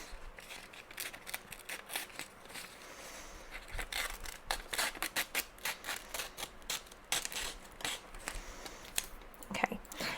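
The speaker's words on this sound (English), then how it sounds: "I can just change how I'm holding these scissors." Scissors snip through delicate old newsprint in a steady run of crisp, close cuts, with dense bursts of small crunchy clicks throughout and no voice over them.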